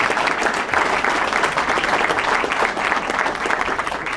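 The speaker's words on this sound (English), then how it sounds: "please do give a big round of applause to Representative Tom Dent for his leadership" Loud round of applause for a state representative at a governor's bill signing, with many people clapping close by in a brisk, slightly uneven rhythm that continues for about four seconds.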